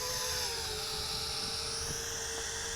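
A JJRC H61 folding selfie drone lifts off and hovers, giving a steady, close, high-pitched whine of small spinning propellers that holds without pause.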